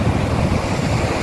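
Wind and surf sound on a tree-lined beach in Satarmese Barat, a constant loud rushing wash with a gusty rumble against the microphone and no distinct wave breaks.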